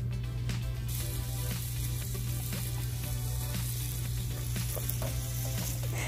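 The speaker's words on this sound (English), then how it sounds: "The ground beef is cooking and I'll keep stirring and turn it over." Ground beef fries in olive oil in a pan, a dense continuous sizzle with scattered scraping stirs, close and steady with no talking.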